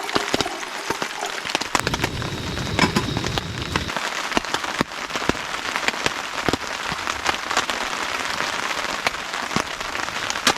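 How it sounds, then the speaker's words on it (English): Rain patters steadily on a tarp shelter at a campsite on the Appalachian Trail, with a dense close spray of drops and sharper individual hits throughout. "Hasn't been too heavy of a rain. Starting to come down a little bit more now as the morning's going on."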